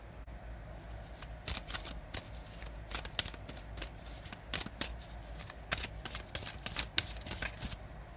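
Oracle cards from a Goddess of the Moon deck shuffled and handled close up, a steady run of crisp riffles and sharp card slaps over a faint low background hum, with no talking.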